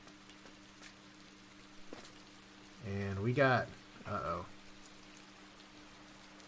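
Faint, steady rain hiss patters throughout in the video game Inside, with a brief burst of speech in the middle.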